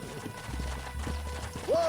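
Horse hooves clip-clopping in the Western video game Red Dead Redemption, a steady run of hoofbeats under a low engine-like hum, ending in a brief rising whinny-like tone.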